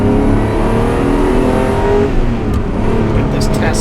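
A 1991 Ferrari Testarossa accelerates on a road, its engine droning loudly and steadily with a rising tone, heard from inside the car with a voice talking over it.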